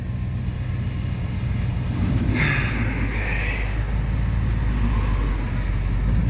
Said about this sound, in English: now we have a bunch of traffic